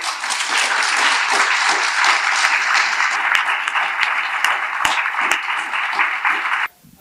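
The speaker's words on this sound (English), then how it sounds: "I want to give everybody here another round of applause." A crowd at a reproductive health care panel discussion gives sustained, loud applause that holds steady for nearly seven seconds before cutting off abruptly.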